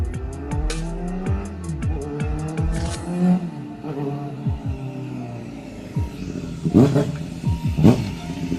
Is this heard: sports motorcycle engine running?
yes